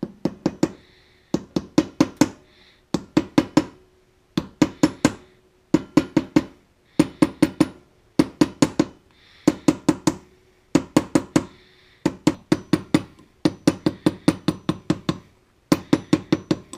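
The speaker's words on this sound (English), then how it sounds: "I'm going to do that with a hammer on the anvil of the vise here" Rhythmic bursts of sharp metallic hammer taps on a vise anvil, knocking a metal plug during a Thermos lantern and stove pump O-ring repair, in quick clusters of several strikes separated by brief pauses, close and fairly loud.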